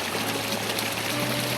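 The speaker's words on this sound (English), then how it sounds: "this is the lovely Cascade Falls, or Cascade Trickle, I'm not really sure. Not a lot of water" Cascade Falls at Lake Tahoe, a small late-season waterfall with little water, makes a soft, continuous trickling and splashing hiss, steady and quiet throughout.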